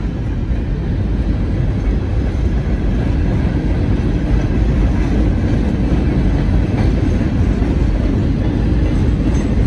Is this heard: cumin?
no